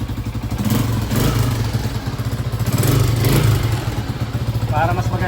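A Motorstar Starx 125 motorcycle engine idles close by during carburetor tuning with a rapid, steady putter that rises and falls slightly, while someone talks over it.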